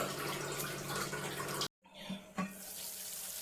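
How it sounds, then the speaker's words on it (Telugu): Water rushes and bubbles loudly as it boils in a pot for pulao, drops out briefly, then resumes at a steady churning level. "వాటర్ బాయిల్ అవుతున్నాయండి"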